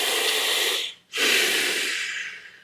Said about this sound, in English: we're gonna breathe through our teeth to make a very silly sound like this